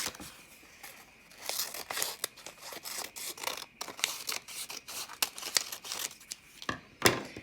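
Scissors cutting out painted paper birch tree shapes up close, a quiet run of quick snips and crisp paper rustles and crinkles in an irregular rhythm, with no voices.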